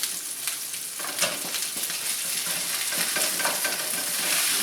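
Metal spatula scrapes crusty bits of smash burger and onion off a hot frying pan, giving repeated rasping strokes over a continuous sizzle, close and fairly loud, with no talking.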